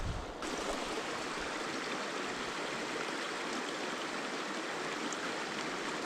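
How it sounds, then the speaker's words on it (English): A small brook in the Smoky Mountains flows steadily, a close, even hiss of rushing water that holds at constant loudness with no voices. "Little brook."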